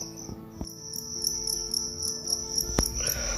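Crickets shut in a dark cardboard box chirp loudly and close, a shrill, sustained trill with a steady pulsing rhythm and a few sharp knocks underneath.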